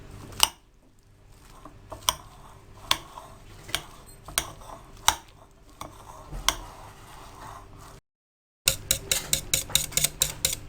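A spoon stirs roasted cumin through vegetable raita in a bowl, sharp scattered clinks and taps against the dish, then a quicker run of clicks after a short gap.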